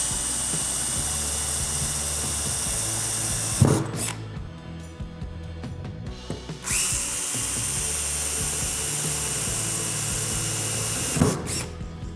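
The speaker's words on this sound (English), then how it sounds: "then you go back and just drill your next 2 holes." A power drill bores holes for a Core Trax cargo tie-down strip in a DECKED truck-bed system, with two sustained high-pitched whirring runs separated by a short pause, close and loud, with no talking.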